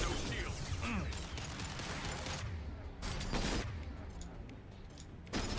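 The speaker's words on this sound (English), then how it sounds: "we will fire at you to get your attention" Mass Effect video game gunfire in a squad firefight: dense, continuous bursts of rapid shots and impacts, loud and close, with a brief lull near the midpoint before the firing picks up again.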